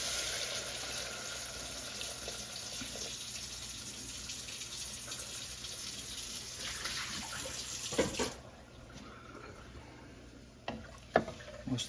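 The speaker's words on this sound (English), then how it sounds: "time for some water." Water runs steadily from a kitchen tap into a pot for a mushroom soup, a continuous close gush that cuts off near the end, followed by a few light clinks.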